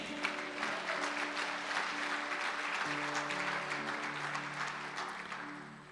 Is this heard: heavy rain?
no